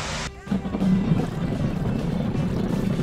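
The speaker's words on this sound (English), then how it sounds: "Hovercraft." A hovercraft's engine and lift fans roar steadily at close range, a loud, continuous rushing drone that swells in after a brief quieter moment at the start.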